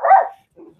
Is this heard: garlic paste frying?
no